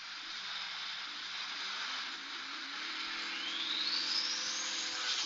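A military jet engine spooling up in War Thunder: a steady roaring hiss, with a high whine that climbs smoothly in pitch as the turbine winds up and grows louder.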